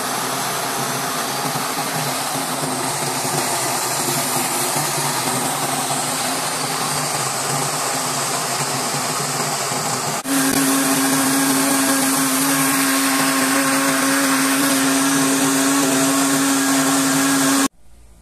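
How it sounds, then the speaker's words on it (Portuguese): A blender whirs steadily throughout while blending beets, its motor pitch shifting partway through to a louder, higher drone before cutting off abruptly at the end. "Vou levar isso aqui pro liquidificador."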